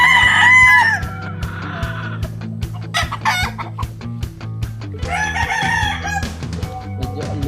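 A Boston Sweater gamefowl rooster crows loudly and close by, followed by further crowing and clucking from farm chickens against a low steady hum.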